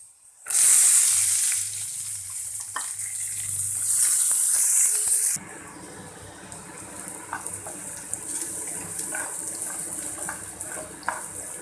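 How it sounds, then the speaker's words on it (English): Onions hit a pan of fried garlic with a loud, steady hiss that lasts several seconds, then drops to a quieter, continuous sizzle with scattered small pops and crackles. "we'll go ahead and add the onions"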